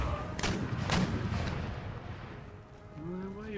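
Artillery fire in the video game Empire: Total War, two heavy booming shots early on with rumbling battlefield noise trailing off afterward.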